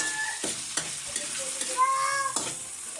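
Argentina corned beef and onion stir-frying in a pan for odong, a steady sizzle broken by several scraping knocks of a utensil, with a faint tonal squeak or meow-like sound in the background.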